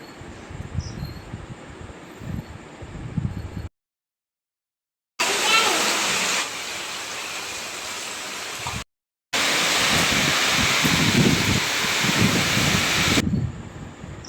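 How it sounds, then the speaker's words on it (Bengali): Heavy rainfall seen from a rooftop balcony makes a dense, steady hiss in several loud stretches broken by short silent gaps, with voices faintly audible in the opening part. "আজ প্রচুর বৃষ্টি হচ্ছে"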